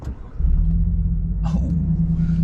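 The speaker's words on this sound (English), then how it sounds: "it does sound cool when it cranks back up like that" A 2022 GMC Sierra truck engine with an AWE cat-back exhaust fires back up after an auto stop-start pause, settling into a steady low rumbling idle, close by and fairly loud.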